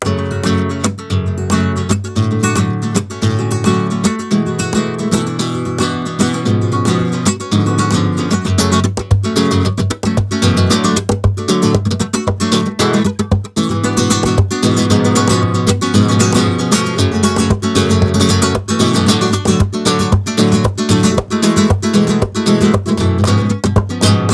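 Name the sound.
guitar flamenco rumba strumming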